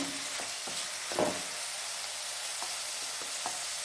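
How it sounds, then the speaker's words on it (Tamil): Potato masala with green chillies fries in a pan, a steady close hiss of sizzling oil filling the whole stretch, with a few soft stirring taps and scrapes. "ஒரு 2 நிமிஷம் இது ஃப்ரை ஆகட்டும்"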